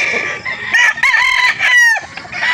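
A Hennie line gamefowl rooster crows loudly and close at a chicken farm, its drawn-out call rising and breaking, with other fowl clucking and calling around it.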